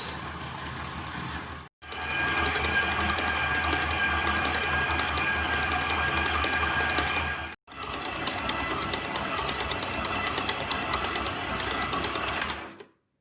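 A stand mixer kneads bread dough for a pot-baked loaf, giving a steady, loud mechanical whir with dense rhythmic clatter that runs continuously and stops briefly twice.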